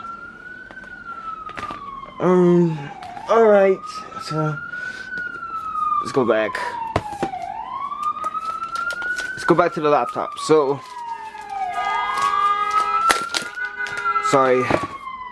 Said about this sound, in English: Okay, sorry guys, that was the ambulance.